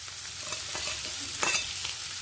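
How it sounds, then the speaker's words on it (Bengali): Finely chopped onions fry in hot oil with a steady, even sizzle, while a spoon scrapes and stirs them in quick strokes, one slightly louder scrape partway through, quiet and close with no talking. "এই সময় দিয়ে দিচ্ছি মিহি করে কুচিয়ে নেওয়া পেঁয়াজ"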